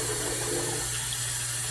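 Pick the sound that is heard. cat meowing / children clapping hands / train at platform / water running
water running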